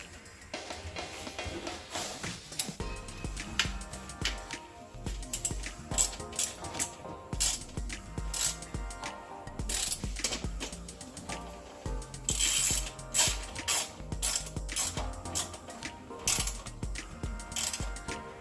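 Close, quiet clicking of a ratchet or fastener being hand-tightened on a Honda generator during a capacitor change, with irregular mechanical ticks and scrapes across a steady low background.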